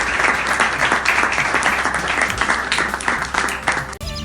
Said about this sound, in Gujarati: જોરદાર તાળીઓ થઈ જાય ધરમપુર માટે.